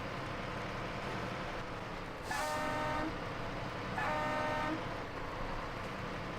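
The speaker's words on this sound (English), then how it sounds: "The horn on this truck sounds a bit broken." Two drawn-out truck horn honks in a video game, each about a second long, over a steady engine rumble, fairly loud and slightly buzzy, the horn sounding a bit broken.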